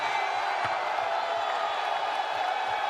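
A press conference crowd cheers and roars in a steady, dense wash of noise with scattered whoops, filling the room continuously without a break.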